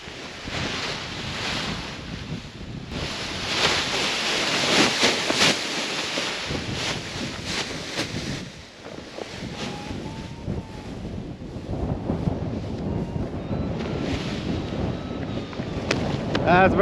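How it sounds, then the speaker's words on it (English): Wind gusts across a paragliding takeoff in the Andes, a loud buffeting rush battering the microphone that surges and eases in waves, with voices talking faintly underneath. "Windy on takeoff."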